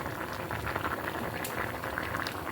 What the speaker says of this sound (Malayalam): അപ്പോൾ കണ്ടോ, അടുപ്പത്തിരുന്ന് തിളയ്ക്കുന്നതിൻ്റെ ശബ്ദം കേൾക്കാമല്ലേ.